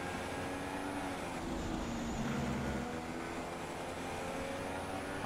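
Racing car engine in the F1 2016 video game, a steady high-pitched drone with layered harmonics, holding fairly constant through the lap, loud and unbroken with no talk over it.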